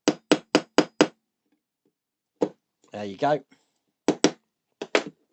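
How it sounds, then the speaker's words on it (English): Sharp hammer taps lining up a metal spindle in a World of Warcraft Lich King model kit part: a quick run of five close knocks, a lone tap, then a few more pairs, with brief talk in the middle. "What I am going to need though is definitely my hammer, just to line that up."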